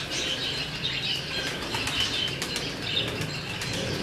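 Wings of a Jaller breed pigeon flap continuously and close by, a steady rapid fluttering that holds at an even level for about four seconds, with faint chirps mixed in.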